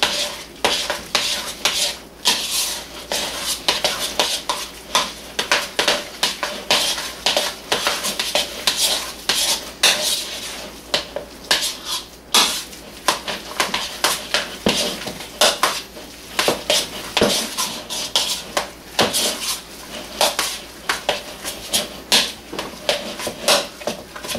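Crumbled bacon and cheese mixed in a casserole dish for a cheeseburger pie, with a utensil repeatedly scraping and clinking against the dish in close, busy strokes, with no talking.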